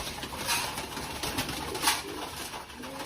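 Pigeons coo softly and repeatedly while being fed, their low throaty calls overlapping at close range over a steady background hiss, with no talking.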